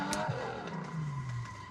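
A racing sim car slides under handbrake in a video game, producing a short tyre squeal over a low engine hum, moderately loud and alone.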